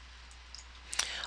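Mouse clicks at a computer while working in Dynamics GP report screens, a quick pair of faint, sharp clicks near the end over a quiet room hum.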